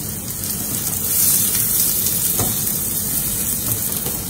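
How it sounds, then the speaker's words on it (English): Chopped garlic and green chili sauté in a hot pan with a steady, dense sizzle and crackle that runs without a break and swells slightly partway through, close and fairly loud. "then garlic, chopped garlic and green chili. We have to saute it first."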